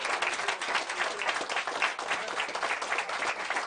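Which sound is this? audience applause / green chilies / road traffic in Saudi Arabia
audience applause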